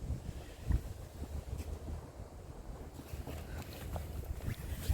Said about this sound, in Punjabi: ਹਵਾ ਕਿੰਨੀ ਚੱਲ ਪਈ ਆ